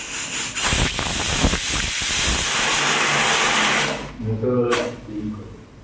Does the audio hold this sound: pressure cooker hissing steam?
yes